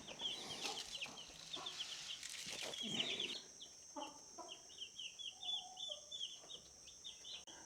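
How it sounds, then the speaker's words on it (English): Baby chicks in a brooder on a homestead, many high, thin peeps and chirps overlapping in quick bursts, fairly close with a faint steady hum behind them. "time to check on the baby chicks"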